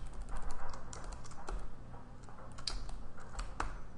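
Keys on a computer keyboard tapped a few times, with soft, sparse clicks over a steady background hum and no speech.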